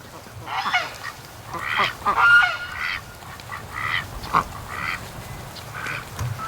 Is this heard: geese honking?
yes